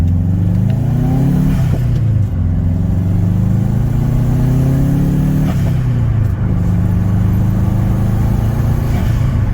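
A Toyota Corolla engine drones loudly and steadily while driving, its pitch climbing through gears with brief dips at shifts, no voices.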